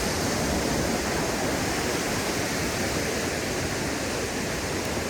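Surf on a beach in Canggu, Bali, makes a constant, loud, wash of crashing waves with no break and no voices.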